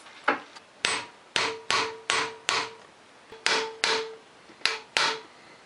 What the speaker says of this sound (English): I'm going to use an impact driver.